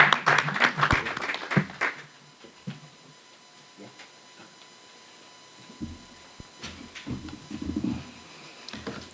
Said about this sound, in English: let's have a quick round of applause, please, for Ernest Yamai from Nyanga